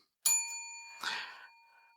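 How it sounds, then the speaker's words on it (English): A bell is struck twice on a podcast set, giving bright ringing tones that linger and decay over about two seconds, alone with no voices. "Hit the bell."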